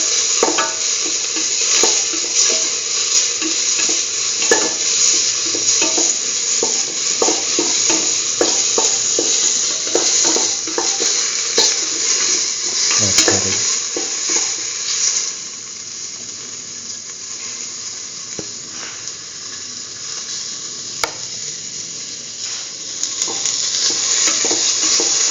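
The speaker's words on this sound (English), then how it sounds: "saut the tomato pieces with the rest of the mixture. Keep on sauteing, thoroughly saut and mix." Tomato pieces being sautéed and stirred into a curried lentil mixture in a pan, a steady close sizzle with a spatula scraping repeatedly at an uneven rhythm, easing slightly toward the end, with no talk.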